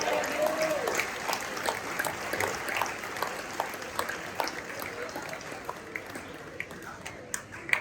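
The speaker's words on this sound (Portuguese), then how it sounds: "dá uma aplauso ao Senhor" A church congregation claps in praise, a dense patter of applause with scattered sharper claps, starting under a voice and thinning slightly as it goes on.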